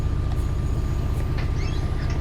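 A Class 66 diesel freight locomotive running in Train Sim World 5 on the East Coast Main Line, a steady low rumble of engine and wheels with faint higher clicks and squeals over the top, continuous and moderately loud.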